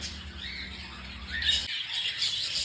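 Pet cockatiels, a hen and a cock, squawk and chirp in shrill bursts close by. A low hum drops out partway through and the calls continue.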